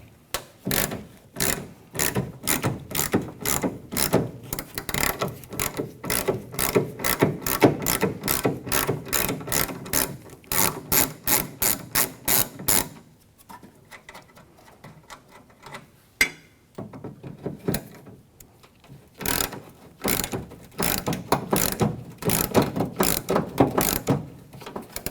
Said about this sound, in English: There are two 10mm bolts we're going to undo now